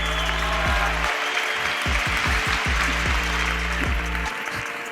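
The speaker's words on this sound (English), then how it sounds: "Clap it up if you're a fucking nerd." An audience claps for self-described nerds at a motivational talk: a steady wash of applause over deep, booming tonal low sounds that swell and drop, ending slightly quieter.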